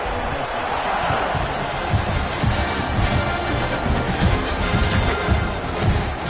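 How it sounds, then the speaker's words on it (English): A stadium crowd in the video game College Football 26 keeps up a steady, dense roar that builds to a few louder swells. It plays throughout with no clear talk on top. "this crowd is buzzing after that last score."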